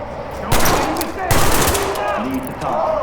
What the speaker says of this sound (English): Move in, toss a bang and clear.